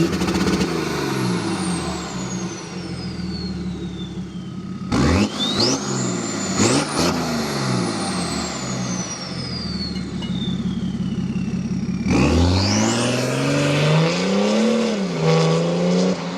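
A 2007 BMW 535d E60 diesel with roughly 800 Nm is revved hard while standing, loud engine notes sweeping up and dropping back in several distinct rises, heard alone without talk.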